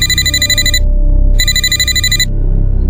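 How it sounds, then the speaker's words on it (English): A telephone rings twice, loud and close, each ring a bright trilling bell burst lasting under a second with a short silent gap between, over a low background hum. "That's when my phone rang again."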